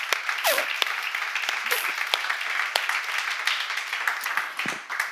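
A church congregation applauds during a worship seminar, a dense, steady wash of many hands clapping close by with a few sharper claps standing out and a voice faintly mixed in.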